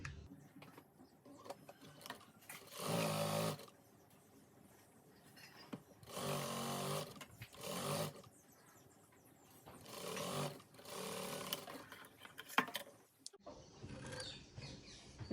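A sewing machine stitches the seam of a two-colour gown in four distinct bursts of fast, steady whirring, each a second or two long, separated by quiet pauses with small handling clicks.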